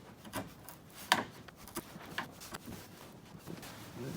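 A chisel pared across teak wood to flatten the surface gives soft, scattered rasping scrapes at close range, with one sharper rub near the middle of the stretch.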